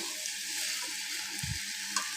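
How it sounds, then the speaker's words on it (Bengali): Mixed vegetables fry in a pan with a soft, steady sizzle, broken once or twice by a brief low knock of stirring. "একটু আমি সবজিটাকে ভেজে নিচ্ছি"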